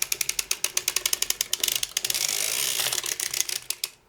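A circular sock knitting machine cranked by hand, giving a fast, steady clicking ratchet of needles in even rhythm that blurs into a continuous whir midway before slowing back to separate clicks, close and clear with no talk.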